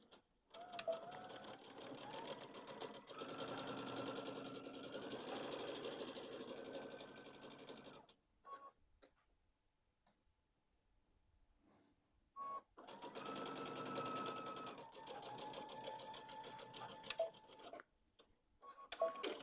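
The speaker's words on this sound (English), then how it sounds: "Let's take it over to the machine and sew those on" A sewing machine stitches pillow fabric at a quarter-inch seam, running in two long steady bursts separated by a quiet pause, with a faint ticking mechanical rhythm and no talk.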